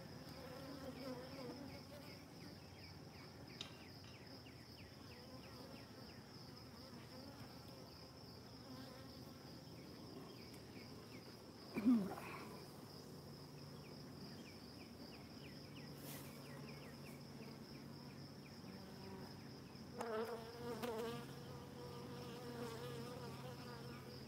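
Honeybees buzz around an open hive box during a hive inspection, a faint, steady droning hum with a few soft knocks and handling sounds mixed in.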